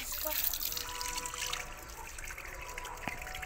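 Water runs steadily from a tap in a thin trickling stream while something is scrubbed with a brush, a fairly quiet, continuous splashing.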